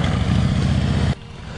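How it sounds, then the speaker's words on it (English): A 2014 Harley-Davidson Fat Boy motorcycle engine running: a loud, low throbbing rumble that cuts off abruptly about a second in, leaving a quieter idle-like hum. "Bree's gonna fire this bike up for us real quick"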